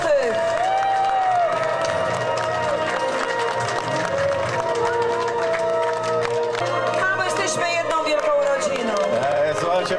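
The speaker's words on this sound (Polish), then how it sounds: "Flintstonowie, 2. miejsce, brawa dla was!" A crowd at an outdoor raft and boat festival on a river applauds and cheers the second-place team, with steady clapping and whoops under a loud announcer's voice and music.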